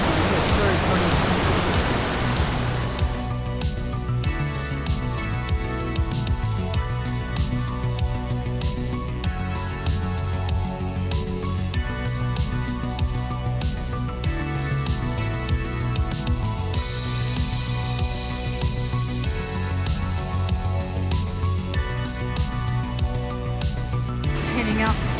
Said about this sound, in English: Heading up to the top of the waterfall now.